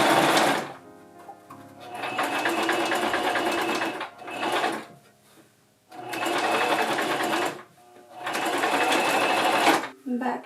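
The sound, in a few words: sewing machine stitching side seam of apron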